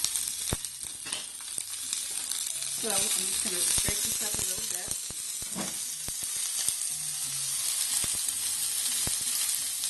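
Loud, continuous sizzling of chopped onion frying in a hot cast iron skillet, with utensil scrapes and taps and someone speaking briefly over it.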